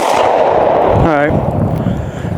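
A single pistol shot, from a handgun fitted with a Sig Sauer Romeo RS Compact optic, fired at a 10-yard range, rings out loud and close, followed by a brief metallic ringing.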